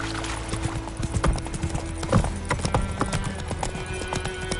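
Horse hooves clip-clop in a steady trotting rhythm in The Witcher 3 video game, close and loud over a dense bed of game ambience and tack rattle.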